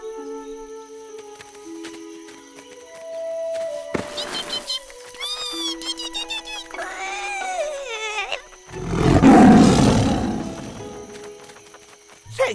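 A cartoon tiger, the ferocious Shere Khan of a Jungle Book cartoon, lets out a loud, rough roar that swells near the end, preceded by assorted animated cries and music-like tones.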